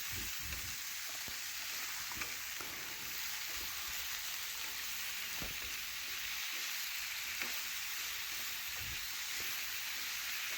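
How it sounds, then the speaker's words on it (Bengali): Chopped vegetables with salt, turmeric, coriander and chili powder frying and being stirred in a pan, a continuous soft sizzle with scattered scraping knocks from the spoon, fairly quiet and without talk. "সমস্ত কিছু একসাথে সবজির সাথে মিশিয়ে নিচ্ছি"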